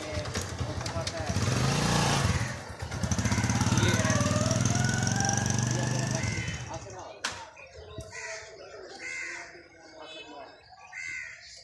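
An underage child rides a small motorcycle in Muzaffargarh district; a steady engine drone rises and falls for about six seconds, then fades, leaving crows cawing and birdsong with people talking nearby.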